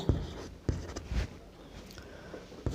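Pen or chalk writing out a Class 10 math solution: a few sharp taps and short scratchy strokes, faint and close, with quiet gaps between them.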